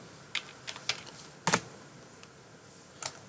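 Scattered, quiet clicks of a computer keyboard while a word is typed into Word, a handful of separate keystrokes with one firmer tap near the middle.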